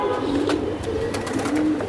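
A Giribaj racing pigeon coos close by, three soft, low, rolling calls in a steady rhythm over faint background noise.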